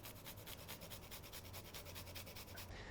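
Fresh ginger rubbed against a microplane over a bowl, giving fast, steady rasping strokes in a quick even rhythm, close and fairly quiet throughout.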